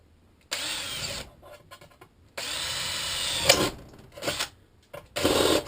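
A power drill bores into a piece of firewood, running in several bursts of whining motor noise separated by short pauses, close and loud, with brief stops between each push.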